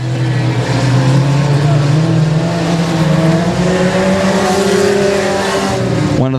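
Four-cylinder race cars roaring through a heat race at Timberline Speedway, engines droning loudly and continuously with shifting pitch as cars pass, a rising whine sweeping in at the very end; a commentator talks over the noise.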